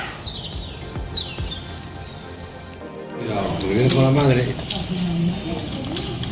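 Rain pattering steadily on a walker's poncho along the Camino Sanabrés pilgrim route toward Santiago, close and continuous, with a voice talking over it in the second half.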